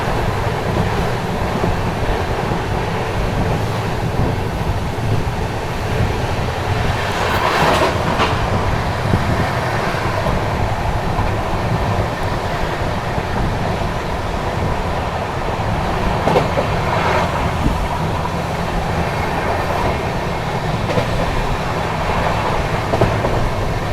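The Unchahar Express runs at around 100 to 110 km/h, heard from on board as a steady, loud rumble with rhythmic wheel clatter and a couple of brief sharper swells.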